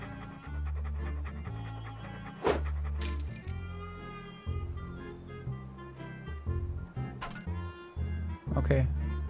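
A ferocious-looking dog pants in Monkey Island 2: LeChuck's Revenge, with rhythmic breathy huffs and game sounds, and a few sharp clicks over a bed of synthesized music.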